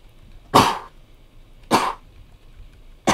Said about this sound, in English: Oh God, I have to sneeze.